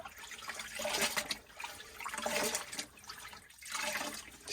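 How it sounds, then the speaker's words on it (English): Water poured over cloth in a 100-year-old Anchor antique wringer, a rushing, splashing flow that swells and fades in three uneven surges, close and fairly loud, with no talk. "Saturate it with water."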